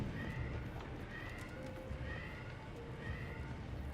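An alarm in the video game Outer Worlds 2 sounds like a cat meowing, giving short repeated tonal calls at a steady pace over a low background rumble.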